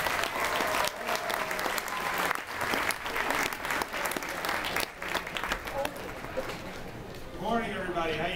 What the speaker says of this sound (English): So let's give a big round of applause for Larry Giles.